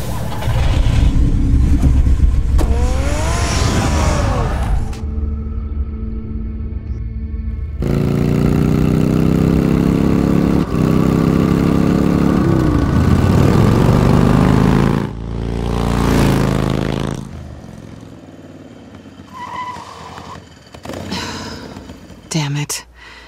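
A car engine revs in the Batman Telltale Series video game, loud and sustained with rising and falling pitch, broken by pauses and mixed with other game sounds.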